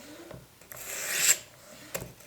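A freehand sharpening stone makes light cutting strokes along a knife edge, a few soft rasping rubs, one longer and louder stroke rising then stopping, with a short scrape after it.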